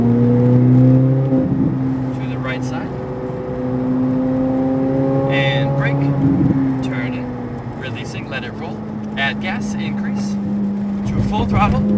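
A race car accelerates on a track, its engine droning loudly and shifting in pitch as throttle rises and eases, with a high-revving surge near the end.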